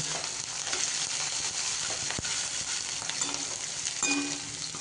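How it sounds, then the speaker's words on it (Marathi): Chopped onion sautéing in a pan over a high gas flame while making rava upma, a dense continuous sizzle with occasional soft scrapes of a spoon stirring. "आता गॅसची फ्लेम मी मोठी केलेली आहे आणि हा कांदा थोडासा परतून घेणार आहे."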